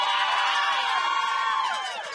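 Crowd on the sideline of a women's rugby championship match cheering and whooping loudly, a dense wash of many voices that fades slightly at the end.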